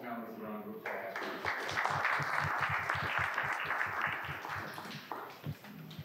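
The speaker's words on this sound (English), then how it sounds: "give us all his panelists a round of applause" Audience applause for a panel at a film festival roundtable: a voice trails off at the start, then a moderate room of hands claps steadily, with individual claps standing out, thinning near the end.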